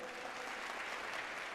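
A youth audience at a Telugu-region youth fest applauds with brief, dense, steady clapping, distant-sounding and moderately faint, with no talk over it.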